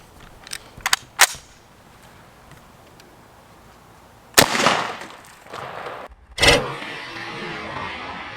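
A full metal jacket round fired at a Kevlar helmet set on a jug of water gives a sharp, loud gunshot crack with a short decaying tail, preceded by a few faint clicks and followed by another loud bang.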